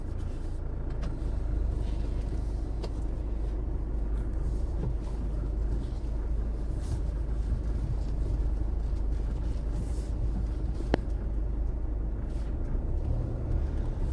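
Steady low engine rumble of a diesel automatic Tata Safari SUV driving, continuous and close, with faint road noise and an occasional light click.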